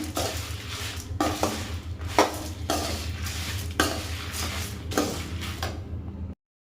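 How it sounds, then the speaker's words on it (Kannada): Spices for sambar powder being stirred in a pan, with rhythmic scraping strokes of a spoon against the metal about once a second, close and alone over a low steady hum. "ಈಗ ಒಂದು ಮಿಕ್ಸ್ ಕೊಡೋಣ"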